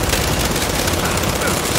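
Turret gunfire in Gears of War 5, a dense continuous rattle of rapid shots filling the short stretch at a steady, loud level with no pauses.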